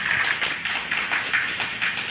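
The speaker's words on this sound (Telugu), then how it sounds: "కరివేపాకు వేస్తున్నప్పుడు ఆ సౌండ్ అయితే మంచి భలే ఉంటుంది కదండి" Curry leaves sizzle in hot oil for a snack mixture, a loud, steady crackling hiss with rapid pops close up, and no talking.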